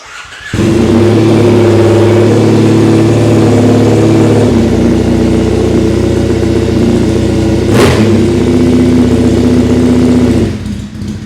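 A Triumph Bonneville SE 865 motorcycle engine, with its air injection removed, fires up and runs loudly up close, idling steadily with a brief rev partway through before settling again.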